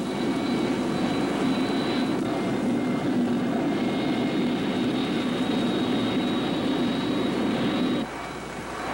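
A QF-86H Sabre remote-controlled drone jet roars steadily through its takeoff run at China Lake, a loud sustained turbine rush with a high whine on top, dropping away sharply near the end.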